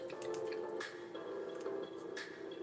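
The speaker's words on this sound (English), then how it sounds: "I don't want my brush to get all covered in paint, so I'm gonna rinse that." Paint brush swished and rinsed in a cup of water, giving soft wet sloshing and dripping sounds close by, with a few brief splashy bursts over a steady liquid wash.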